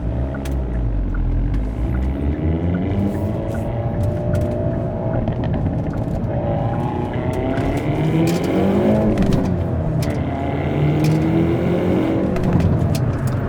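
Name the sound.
Hyundai Elantra N driving with exhaust pops on each shift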